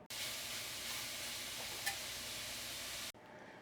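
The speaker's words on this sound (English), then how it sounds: "we are going to brown some sausage. I'm going to be using Italian sausage." Italian sausage browns in a pan with a faint, even sizzle and a single small clink partway through, quiet and steady, cutting off abruptly near the end.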